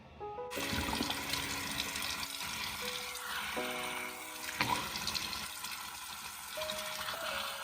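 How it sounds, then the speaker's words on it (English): A tap runs steadily into a sink while someone washes their face, the water hissing at a low, even level with small splashes and shifts in flow. "I'm gonna wash off my face now"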